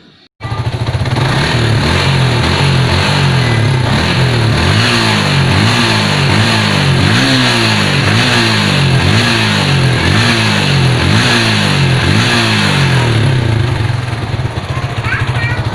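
A motorcycle engine just reassembled after service and an ECU data reset runs steadily up close, with rhythmic rev surges repeating about once a second over a constant idle drone.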